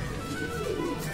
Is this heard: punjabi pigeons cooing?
yes